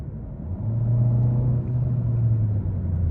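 A 2021 Kia K5 LX with the 1.6-litre turbo engine pulls under throttle from inside the cabin, a steady low rumble that swells with a sustained droning tone, no voices.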